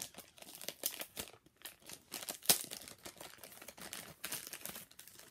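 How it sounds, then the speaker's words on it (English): Resealable plastic packaging crinkling and rustling as an iBloom peach squishy is taken out, faint close crackles in uneven bursts with one sharper snap. "And I can take it out of the packaging. It is resealable"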